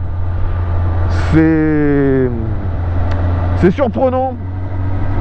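A grey-finished motorcycle held at about 5000 rpm while riding gives a steady low engine drone with slight vibration, running under a man's speech throughout.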